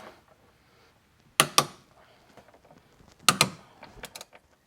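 Bolts on a trailer hitch under a car are tightened with a ratchet, heard as two sharp paired clicks near the start, another pair later, then a few lighter clicks against a quiet background.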